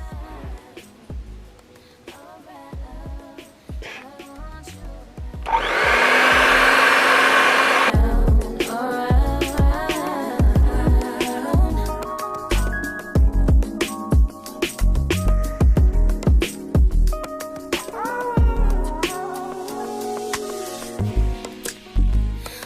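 A Platinum hair dryer on low heat blows in a brief steady whoosh lasting a few seconds during wig installation, loud and close, set against music that plays throughout.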